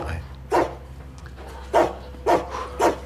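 A dog gives four sharp barks spaced about a second apart, fairly close, over a quiet low hum with no speech in between.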